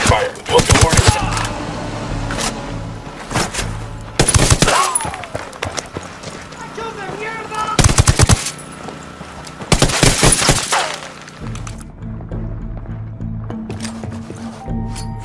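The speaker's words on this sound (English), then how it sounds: "I'm opening fire." Heavy gunfire in the video game Ghost Recon Wildlands, loud bursts of shots clustering around four intense volleys with busier combat noise and occasional voices between them.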